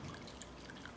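Melted ice or liquid poured from a container into a cup, a soft continuous splashing trickle close by, steady for about a second with no voices.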